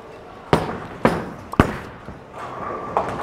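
A urethane Storm Pitch Black bowling ball crashes into the pins on a bowling lane: several sharp, loud impacts over about a second, followed by a fainter rattle and a short hum of the ball rolling in the lane.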